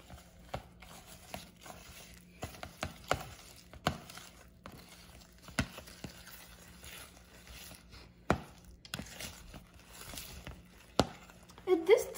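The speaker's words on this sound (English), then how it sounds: "this is way better to use when you're mixing some eggs" Eggs being mixed in a bowl while making peanut butter cookies, heard as light, irregular taps and clicks of a utensil against the bowl, fairly quiet and close, with no talk.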